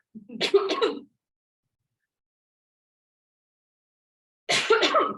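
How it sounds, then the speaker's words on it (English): A short cough-like throat noise, then several seconds of silence, then another brief throaty burst, close and clear. "Sorry you just had to hear me cough over your speakers"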